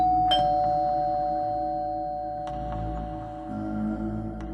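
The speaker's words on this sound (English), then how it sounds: "it was my doorbell." A doorbell rings once with a bright electronic chime whose tones sustain and slowly fade, followed by a few faint clicks over a low room hum.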